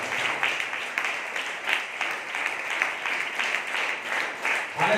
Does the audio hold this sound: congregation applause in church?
yes